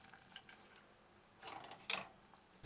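Spoon scraping and clinking against a pan while mackerel stew with ketchup cooks on a medium-low flame, two short bursts of stirring close up, otherwise quiet.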